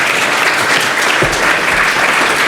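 Steady, loud audience applause filling a security conference hall, a dense, even wash of clapping with no talk over it.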